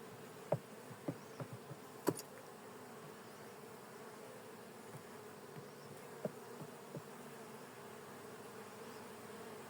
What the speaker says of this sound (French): Donc il y a des abeilles sur les cadres